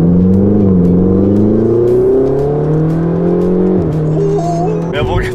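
A fast sports car accelerates at a legal-speed pace, its engine drone rising and shifting pitch steadily for several seconds, loud and close, with occasional speech from inside the car.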